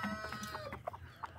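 Chickens and a rooster in a yard shared with guinea fowl cluck in quick, scattered bursts, several birds calling close by with short sharp notes and no talk.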